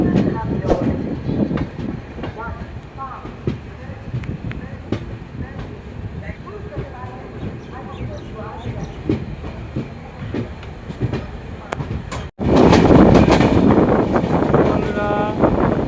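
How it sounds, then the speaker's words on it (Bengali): The Uttarbanga Express runs on the rails, its wheels clicking rhythmically over rail joints with wind rush. A sudden louder surge of rumble and wind comes near the end, and a voice talks at times. "তো বন্ধুরা, আমাদের ট্রেন জিবি থেকে ছেড়ে দিল।"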